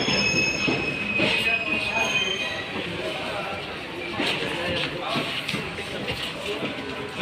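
A passenger train runs on rails, its wheels squealing with high metallic whines over a steady rumbling roll, heard from inside the carriage with people talking nearby.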